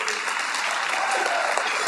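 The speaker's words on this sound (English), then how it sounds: "You can cheer." An audience at a school sports celebration cheers and applauds for a basketball player, a dense, loud wash of clapping and shouting that holds steady the whole time.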